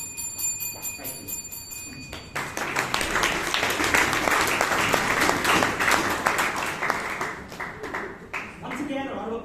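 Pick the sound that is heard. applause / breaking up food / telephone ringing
applause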